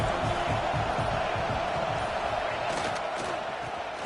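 Football stadium crowd at a college game between Colorado and Florida roars steadily, a broad constant wash of many voices that swells briefly near the end.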